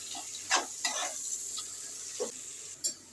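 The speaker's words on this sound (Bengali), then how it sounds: "তেল আমার গরম হয়ে গেছে, দিয়ে দিচ্ছি পেঁয়াজ কুচি। পেঁয়াজটা এবার আমি হালকা করে ভেজে নেব।" Chopped onion frying in hot oil for a mustard fish curry, a steady soft sizzle broken by several sharp stirring scrapes, close up with no talk.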